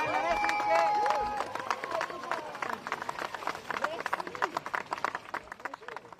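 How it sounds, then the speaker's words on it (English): A crowd claps and cheers for Paris Mayor Anne Hidalgo after her morning swim in the River Seine. Voices and a tonal sound come first, then dense, steady applause fills the rest. "Paris Mayor Anne Hidalgo gets a round of applause this morning"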